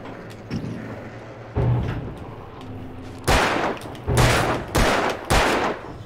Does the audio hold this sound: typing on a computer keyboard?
no